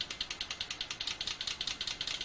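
A simulated car engine idling, rendered as the injector pulse train of a water fuel cell system: a steady, rapid series of regular ticking pulses, close and mechanical, with no voices.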